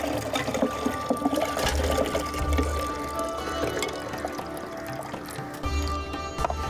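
Ice-cold water drained off fish in a kitchen while cooking dry masala fish, a steady pouring and trickling of liquid at close range that runs throughout.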